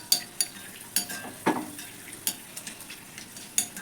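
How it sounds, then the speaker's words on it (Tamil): Sun-dried black nightshade berries frying in hot groundnut oil in a small tempering ladle, a soft sizzle punctuated by irregular crisp pops and ticks, close and fairly quiet with no talking. "கடலை எண்ணெய் ஊற்றி வச்சுருக்கேன், எண்ணெய் காஞ்சிடுச்சு. மணத்தக்காளி வத்தல் எடுத்து போட்டுக்குவோம்."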